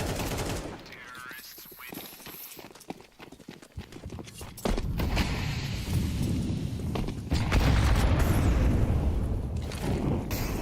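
HE grenades going off in a Counter-Strike 2 match on Triborg, with sharp explosive bursts and gunfire, then a louder rumbling aftermath that swells late in the clip.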